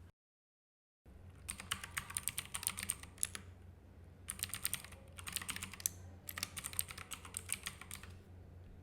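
Bursts of quick computer-keyboard typing while a username and email are entered, clicking in several runs separated by short pauses, close and clear after a brief silence at the start.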